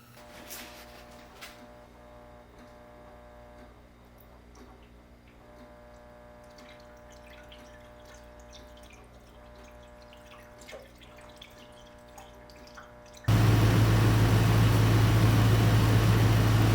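Coolant pours into the cooling system of a 2004 Dodge Ram 1500 after a water pump replacement, a faint trickling and gurgling over a low hum before a sudden loud, steady roar takes over at the end.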